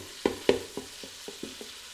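Sausage frying in a pot, broken up with a mix-and-chop tool for a one-pot pasta, giving a soft sizzle under about seven sharp scraping strokes that fade in loudness, close and without talk.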